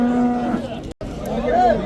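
A cow moos nearby at a livestock market in low, drawn-out calls, with a brief gap between them and faint background noise.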